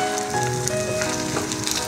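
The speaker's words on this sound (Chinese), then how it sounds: "等到两面都煎至焦黄" A Hokkien oyster omelette of cleaned oysters and garlic sprouts fries in a pan, with a dense, steady close sizzle throughout and faint music underneath.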